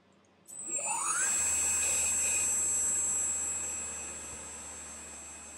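A CNC lathe chuck, on a mill converted to a lathe, spins up to 3000 RPM: a sudden start rising into a steady high whine with a constant hum beneath it, close and loud, fading a little toward the end.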